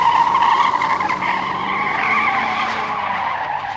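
A car's tires squeal and skid steadily as it drives off, a loud, continuous screech lasting several seconds with a faint engine rumble beneath, played as a sound effect.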